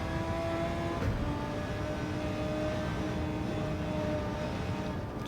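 A race car in Gran Turismo 7 drives on track, its engine holding a steady droning tone with shifting pitch lines, continuous and fairly loud, with no voices over it.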